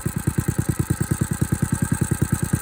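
A cold motorcycle engine idles while warming up before snow, a steady, even chugging pulse of exhaust beats repeating about eight times a second, close and moderately loud with a faint mechanical hiss above it.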